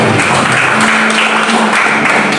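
A congregation at a church service claps steadily, a dense wash of applause with no voices, loud and even from start to finish.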